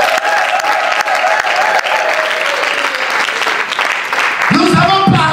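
A church congregation claps loudly and continuously after a sermon, dense sustained applause filling the room, with a voice speaking over it toward the end.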